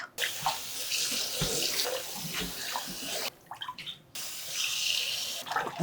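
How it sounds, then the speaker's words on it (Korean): Running tap water splashes over salted napa cabbage being rinsed in a sink, a close, steady gush broken by short gaps and sloshing handling noises. "요거를 이제 깨끗하게 씻어서 물기를 빼서 양념을 해보도록 할게요."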